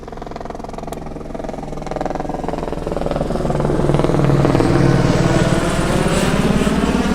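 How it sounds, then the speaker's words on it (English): A helicopter in Hawaiian livery approaches and flies past, its rotor thudding and engine whine swelling from moderate to loud and holding near before easing slightly. "it's one of those helicopters that we were looking at with that very Hawaiian livery"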